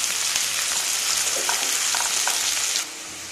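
Onions sizzling steadily in hot oil for moong dal khichdi, a continuous close frying hiss with faint stirring clicks, dropping slightly quieter near the end.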